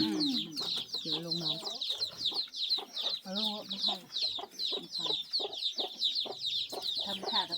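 Domestic chickens at a rural Thai homestead cluck and chatter continuously and fairly close, with a person's voice talking over parts of the flock noise.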